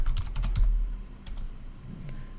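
Rapid keystrokes on a computer keyboard, a run of crisp clicks in an irregular burst that then thins to a few scattered taps, close and moderately quiet with no talking.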